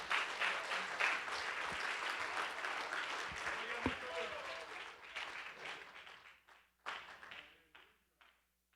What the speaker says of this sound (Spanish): Aplauda al Señor, por favor,